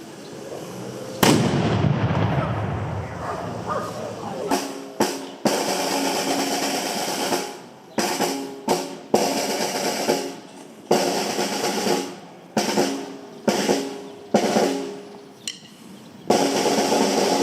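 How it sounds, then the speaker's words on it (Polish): A marksmen's fraternity fires a ceremonial gun salute at a historical commemoration, a loud opening blast followed by a long series of sharp, separate reports with brief gaps, each ringing off in the open air. "teraz, szanowni opaleniczanie, będzie wystrzał, bo jest z nami opalenickie bractwo kurkowe które postanowiło to dzisiejsze historyczne wydarzenie uczcić właśnie wystrzałem"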